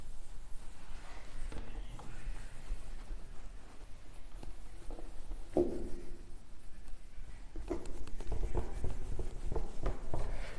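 Chalk or marker scraping across a board during a 12th-grade physics lesson, with steady, close scratchy strokes and taps throughout and denser, louder bursts of writing toward the end. No one speaks over it.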